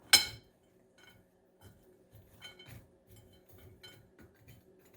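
Chex mix being stirred in a bowl straight out of the microwave, giving a soft initial clatter and then light, scattered rustles and clinks of cereal pieces against the bowl, fairly quiet and unaccompanied by voices.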